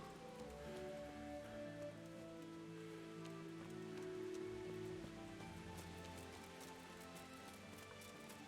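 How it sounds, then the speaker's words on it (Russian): Steady rain falls in the medieval world of the video game Kingdom Come: Deliverance, a continuous soft patter of drops on surfaces, faint and even throughout with no voices. "Но тут постоянно идет дождь."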